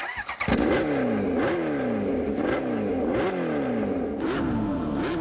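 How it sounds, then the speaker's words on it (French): A Kawasaki Ninja H2R motorcycle with an open free-flow exhaust revs repeatedly, loud and close, each rev rising sharply in pitch then dropping in a rhythmic, racing-style sequence of blasts. "regardez ce pot d'échappement, hein, carrément échappement libre, une sonorité digne d'une MotoGP, écoutez"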